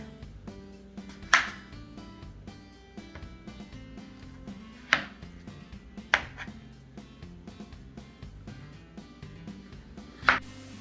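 Little gold potatoes are chopped in half with a knife on a cutting board, giving four sharp, isolated chops spaced a few seconds apart over a quiet, low hum.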